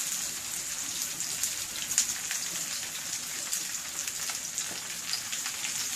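Vegetables hit a hot frying pan and sizzle steadily, a dense crackling hiss that stays close and even throughout with no talking.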